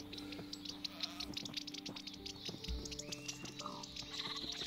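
Sheep in the Minecraft game, played with the TerraFirmaCraft mod, bleat faintly amid soft clicks and game ambience, with a few short bleats spread across the quiet scene.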